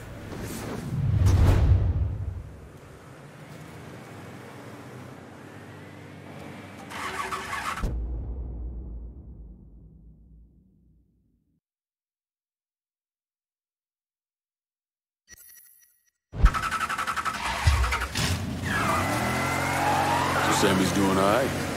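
In Mafia III, a car engine cranks and revs, fades into near silence, then fires up again loudly and keeps running as the car drives off, with voices talking over parts of it.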